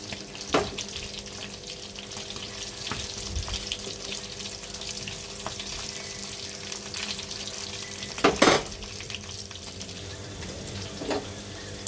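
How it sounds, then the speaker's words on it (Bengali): Small jatka hilsa fish fry crisply in hot oil with a steady, close sizzle. A few louder pops and utensil clatters break through near the middle and end, and no one speaks. "কড়া করে ভেজে নেব সবগুলো মাছ আমি একইভাবে ভেজে নিব"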